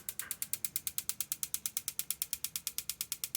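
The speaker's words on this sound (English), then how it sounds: "Good spark, good battery, no ignition." Igniter on a Marey tankless water heater sparking without igniting: a rapid, even train of sharp clicking snaps, about seven per second, loud and close, with no burner whoosh following.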